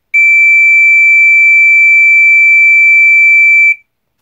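A vintage Entronic Vigilante ES-3 smoke detector sounds a single loud, steady, fairly low-frequency electronic alarm tone continuously for several seconds, then cuts off abruptly.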